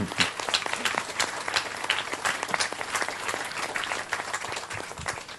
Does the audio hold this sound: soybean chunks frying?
no